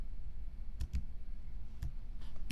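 A computer mouse clicks a few times in quick, sharp bursts, close and fairly quiet against a low steady hum, with no talking.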